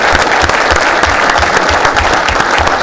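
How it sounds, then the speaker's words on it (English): Council meeting audience applauding citizen award recipients, a loud, sustained wash of many hands clapping with a faint rhythmic thump underneath. "That's a bit of a round of applause."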